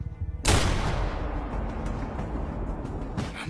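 Gunfire from a shooting scene in the Korean drama My Name: a loud, sharp blast followed by a long rough rumble, and a second, lighter crack near the end.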